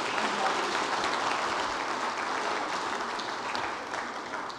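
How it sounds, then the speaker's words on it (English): An audience at an annual meeting seminar gives the panelists another round of applause: broad, sustained clapping from many hands in a hall, even and fairly distant, fading slightly near the end. "all of the panelists deserve another round of applause"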